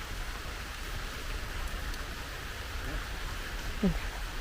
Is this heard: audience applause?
no